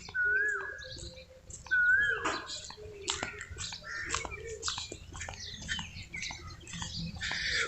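An Asian koel calls twice in quick rising whistles during a village morning walk, fairly clear over a busy backdrop of other chirping birds and faint rustle.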